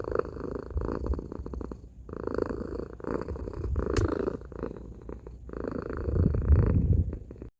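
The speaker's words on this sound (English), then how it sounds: "A soft purring." A steady, close cat purr rumbles continuously in soft rhythmic waves, swelling slightly louder toward the end with no voices present.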